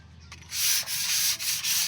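Sandpaper rubbed by hand in several firm back-and-forth strokes, a loud close scratchy hiss with brief gaps between passes, alone without talk.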